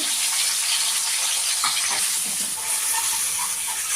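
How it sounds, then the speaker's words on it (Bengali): Fish coated in salt and turmeric fries in hot oil with a steady close sizzle and hiss that runs the whole way, without any talk. "মাছটা লবণ হলুদ দিয়ে মাখিয়ে এই আমি ছেড়ে দিলাম তেলে"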